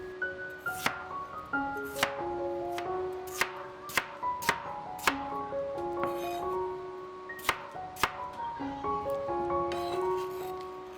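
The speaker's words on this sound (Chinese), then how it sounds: "这个时间把山药去皮， 洗干净后切成小块" A knife chops peeled Chinese yam into small pieces on a board for braised pork ribs with yam, giving sharp, irregular knocks with gaps between them, close and fairly loud over soft background music.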